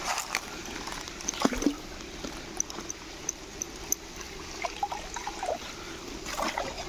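A small hand net scoops through shallow water while catching tiny fish, giving soft irregular splashes and trickles over a faint outdoor background, fairly quiet and close.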